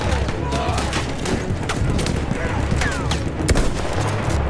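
Rapid machine gun fire in Battlefield 1, dense overlapping bursts of shots with mechanical clatter and booms over a low rumble, continuous and loud throughout.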